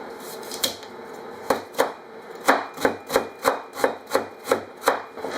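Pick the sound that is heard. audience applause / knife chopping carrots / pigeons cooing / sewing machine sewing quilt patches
knife chopping carrots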